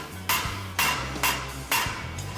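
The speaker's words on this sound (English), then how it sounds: "Hitting it with a dead weight hammer to get the front bush lined up." Four heavy metallic blows from a dead weight hammer striking the front bush of a VW Mk1 Golf GTI to line it up, evenly spaced, loud and close, each with a short ringing clang.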